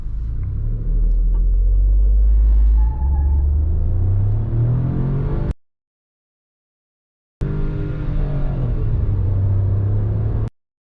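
A Mahindra XUV300 petrol AMT accelerating hard in manual mode, its engine note climbing steadily to the redline, dropping at an automatic upshift and climbing again, loud inside the cabin; the sound cuts out briefly mid-run.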